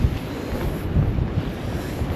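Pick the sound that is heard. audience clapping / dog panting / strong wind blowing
strong wind blowing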